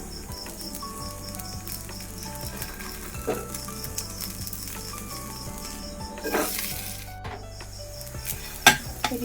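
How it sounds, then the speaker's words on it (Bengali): Batter fries gently in ghee on a hot griddle, giving a soft, steady sizzle with faint crackles and an occasional metallic clink, set under quiet background music. "এটা এবার আস্তে আস্তে ভাজা হোক"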